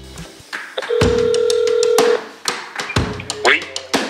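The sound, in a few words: telephone ringing before being answered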